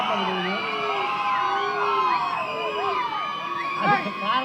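Audience at a Tamil film event for the film Legend, with Saravanan present, roars and cheers continuously under the speeches, a dense, loud crowd wash full of whoops and overlapping voices.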